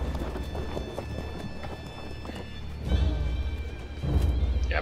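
Light horse cavalry move in the Field of Glory 2 video game, giving a steady stream of close hoof clip-clops. Two heavier thudding surges swell the sound near the end, and no one talks.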